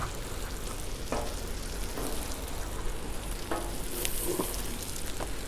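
Hash browns frying on a Blackstone griddle alongside sausage and bacon, giving a steady close sizzle with occasional faint clicks and scrapes throughout.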